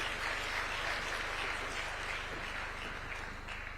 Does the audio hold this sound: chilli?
no